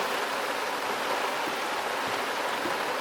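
Heavy rain pours down around a sailing boat, making a dense, steady hiss with no pauses. It is loud and close, and no voices are heard.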